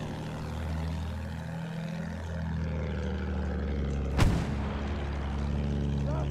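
A single heavy blast from a dreadnought battleship's big guns in a Battlefield 1 naval battle, a sharp booming crack standing out over a constant low engine and ambient rumble of the game.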